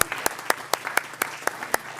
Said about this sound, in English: let's clap for a minute